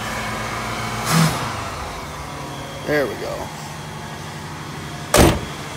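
A 1976 Pontiac Grand LeMans, a flood car restarted on choke after sitting two years, runs with a steady low engine drone throughout, while someone talks briefly over it and a few short clunks break in.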